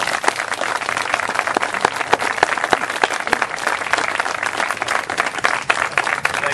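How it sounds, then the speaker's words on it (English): An audience at a memorial gathering gives a sustained round of applause, dense steady clapping from many hands filling the room without pause. "I'd like to have everyone have a round of applause for Matt for a game well played."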